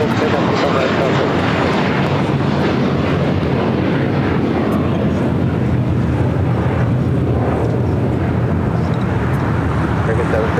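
An airliner takes off from runway 25 right at LAX, a steady loud roar of jet engines filling the whole stretch with wind-like rumble, while air traffic control radio talk runs over it.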